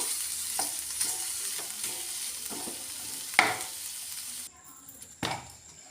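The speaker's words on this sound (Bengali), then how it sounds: "আলু মশলাটা ভালো করে কষিয়ে নেব" Potato masala being stirred and sautéed in a pan, a soft sizzle under intermittent spoon scrapes and clinks, with a sharp knock midway and a sudden drop to a quieter fry near the end.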